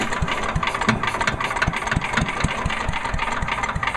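Small gasoline engine of a Troy-Bilt chipper vac under carburetor repair, running at slow throttle with a rough, rapid knocking putter, close and steady throughout.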